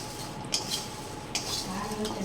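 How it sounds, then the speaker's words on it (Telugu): Dried red chillies frying in a spoonful of oil for drumstick-leaf powder, a steady close hiss with a couple of sharp spoon-on-pan clinks while they are stirred. "ఆ ఎండుమిర్చినంతా కూడా ఈ విధంగా ఆయిల్లో వేయించుకోవాలి"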